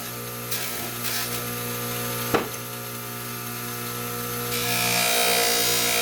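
A Petoskey stone pressed against a spinning Lortone bull wheel charged with waxy polishing compound, a steady close whirring hum with one brief sharp contact tick, rising slightly near the end.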